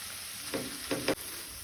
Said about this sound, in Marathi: हो मसालो मातसो तेलार परतून घेवपाक जाय।